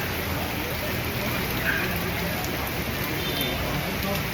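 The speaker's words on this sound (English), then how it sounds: "It is pouring rain." Heavy pouring rain in Vietnam, a dense steady hiss of downpour that fills the scene evenly and loudly from start to finish with no pauses.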